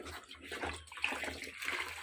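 Water splashing and sloshing as fish fingerlings are scooped by hand from a cement tank, a faint, close, choppy series of small splashes with a few bright drips.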